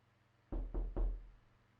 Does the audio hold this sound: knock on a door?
yes